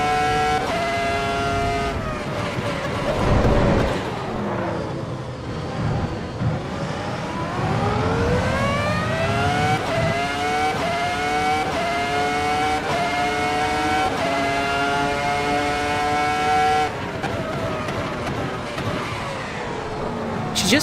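Screaming V10 race car engine from Assetto Corsa Evo, loud and close throughout, with rising and falling harmonic sweeps through gear changes, brief lifts and downshifts, and occasional tire squeal, no voices.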